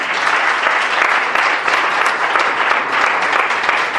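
A church congregation applauding loudly and continuously, a thick, even wash of many hands clapping at once with no pause from start to finish.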